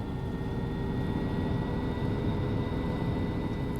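An SH-2 SeaSprite helicopter in Flight Simulator X runs with its throttle up, giving a steady, droning engine hum with a faint whine layered over a low rumble, constant and unbroken.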